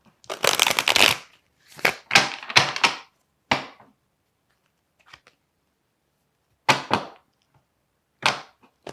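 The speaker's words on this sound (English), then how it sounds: "But I want to pull another card here." Tarot cards being shuffled by hand in several quick riffling bursts with short silent gaps between them, close and fairly crisp, with no talking.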